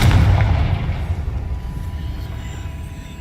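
A Confringo blasting spell explodes in Hogwarts Legacy, a loud deep boom up front that rumbles and fades over a few seconds, with no talk over it.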